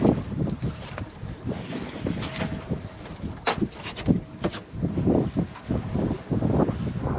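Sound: boat engine running

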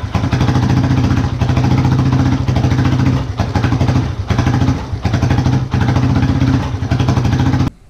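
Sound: motorcycle engine idling and revving after idle adjustment

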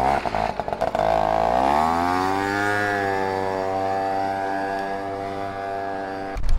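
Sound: motorcycle engine revving

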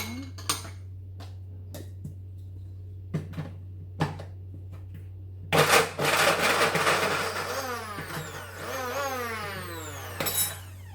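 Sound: blender grinding twenty garlic cloves

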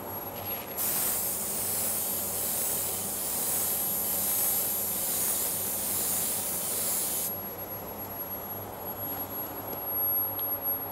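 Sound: spray gun applying primer

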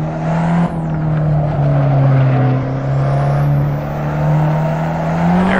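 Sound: Fiat 500 Abarth wheel spin in racing video game

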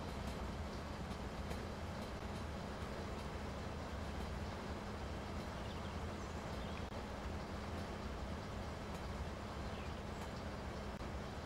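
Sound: tanker train running in Train Sim Pro USA video game

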